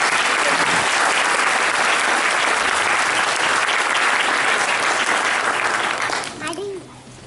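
A crowd at a Parents Day event applauds a student named Veronica: dense, loud, sustained clapping filling the room, fading away in the final second as a voice begins.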